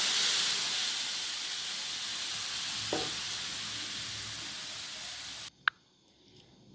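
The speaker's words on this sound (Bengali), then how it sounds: "এবার আমি সেদ্ধ ডালটা দিয়ে দেবো ওর মধ্যে।" Boiled lentils go into fish heads frying in a pan, giving a steady close sizzling hiss with a brief splash midway; the frying noise cuts off abruptly near the end, leaving near quiet.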